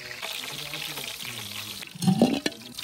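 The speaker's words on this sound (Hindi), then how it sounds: "तड़का जो है लहसुन का लगाएंगे" A soft hiss of frying fills the background, then a louder burst of sizzling as garlic is added to hot oil to temper dal.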